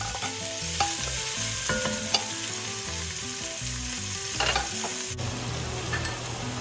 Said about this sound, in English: Add the rest of the olive oil and the onions to the pot, and cook them until soft and translucent,